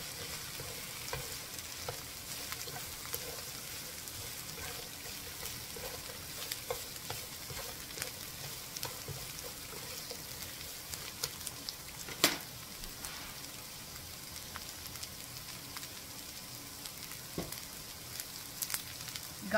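Shredded cabbage stir-fries in a hot pan for Japanese yasai harumaki, a steady soft sizzle with occasional stirring scrapes and clinks, close and alone without talk.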